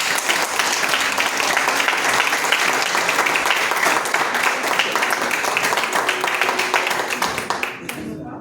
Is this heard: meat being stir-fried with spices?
no